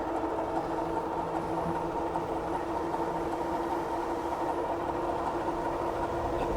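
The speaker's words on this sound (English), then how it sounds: "a big long train just went by going one way, and then now one went back the other way" A long train rolls past at a steady pace, giving a continuous, even rumble and roar that holds a constant level throughout with no break, heard from a residential street near the tracks.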